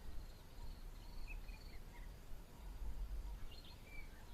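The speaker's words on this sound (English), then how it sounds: "One of Kruger's noisier residents, the brown-headed parrot. They are often heard before they are seen." A brown-headed parrot calls in Kruger National Park, with several short, thin chirping notes at moderate distance over a constant outdoor background hiss.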